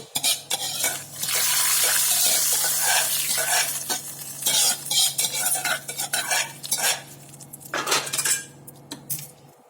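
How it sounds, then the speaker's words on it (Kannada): Hot tempering poured into raw-mango appesaaru sizzles loudly up close, followed by stirring with clinks and scrapes of a spoon against the vessel. "ಈಗ ಈ ಒಗ್ಗರಣೆಯನ್ನು ಇದಕ್ಕೆ ಹಾಕ್ಕೊಂಬಿಡೋಣ."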